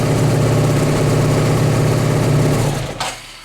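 A Hyosung GT 650 R (Comet) motorcycle engine idles loud and close with a steady low throb, then is switched off and the sound quickly dies away near the end.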